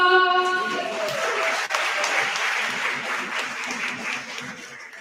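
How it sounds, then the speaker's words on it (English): Audience at a charity auction applauds after a dinner for eight sells, steady broadband clapping filling the room for the whole stretch, loudest at the start with a voice trailing off beneath, then settling to an even roar. "Give it a round of applause."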